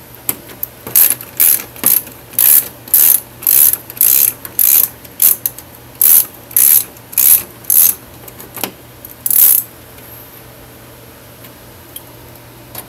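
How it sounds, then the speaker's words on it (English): A hand ratchet clicks in a dozen or so loud, evenly spaced bursts as it backs out the top bolts, close and with no one speaking, then stops and leaves a quiet tail. "Now we're going to take these top bolts off."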